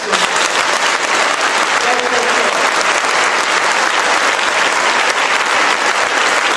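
A large audience at a public ceremony applauding the first lady, dense continuous clapping and crowd noise, loud and sustained throughout with no gaps.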